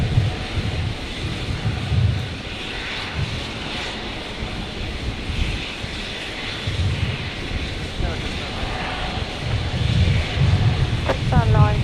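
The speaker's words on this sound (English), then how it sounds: "So the 321 Neo looks like it's going to make a departure on 19 left." An Airbus A321neo departs on runway 19 left at Brisbane Airport as a steady jet engine roar fills the air, with wind noise on the microphone and voices talking over it.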